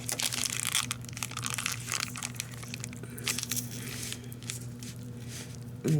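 A knife works through a cooked ham, producing soft, close squishing and crunching cuts that repeat irregularly over a steady low background hum.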